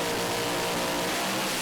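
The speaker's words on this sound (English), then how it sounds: "Once they've both got all lights on the Christmas tree, the revs come up." Drag racing funny cars at the start line hold a loud, dense, roaring rev, a continuous thunderous engine blare close by with no break.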